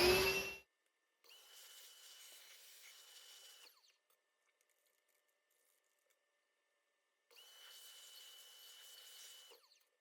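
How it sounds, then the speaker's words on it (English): Compressed air blasting through Alexander 200 horn slides in two steady bursts, each several seconds long, with a quiet gap between them and no voices. "Then blow it out with a vacuum."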